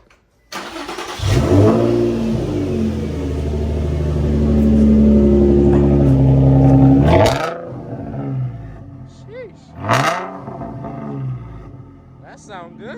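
Infiniti G35 with a Tomei exhaust starting up and revving: a loud, deep roaring drone that holds for several seconds, then drops off into lower rumbling, with people talking near the end.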